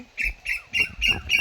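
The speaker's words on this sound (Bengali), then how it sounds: "রকমের পাখির ডাক শুনবে" Birds calling at dusk, five short squawking calls in an even rhythm, fairly close and clear over a quiet background.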